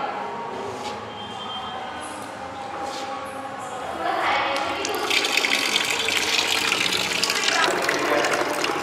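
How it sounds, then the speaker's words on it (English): Water gushing into a bucket through a flow sensor hooked to an Arduino, a steady rushing stream that swells louder and brighter halfway through, close by. "Now we will be demonstrating the flow of water in a bucket."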